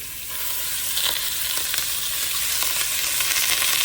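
Ground beef frying in a pot, a steady bright sizzle holding throughout with occasional stirring scrapes, close and with no talking.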